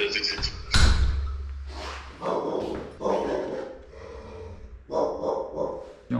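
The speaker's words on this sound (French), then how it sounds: "Un chien qui parle très très mal là." A dog in a video game barks and snorts in several loud bursts, with a heavy thump early on, mixed with breathing sounds and occasional voices.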